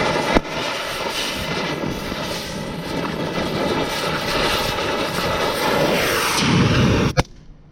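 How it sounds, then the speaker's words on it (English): Wind blows straight at the microphone outdoors, making a continuous loud, rumbling roar that holds steady. It cuts off abruptly near the end after a brief knock. "the wind's blowing right at me"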